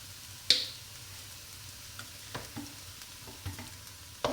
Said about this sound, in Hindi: थोड़ा सा सिरका जाएगा